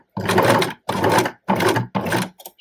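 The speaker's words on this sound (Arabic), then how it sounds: "غادي نخيط السلسله بيان سور حتى الاخر ديال السلسله" Domestic sewing machine stitching the waistband onto a panelled skirt, running in four separate bursts of fast stitching, each lasting about half a second or more, with brief pauses between them, close and fairly loud.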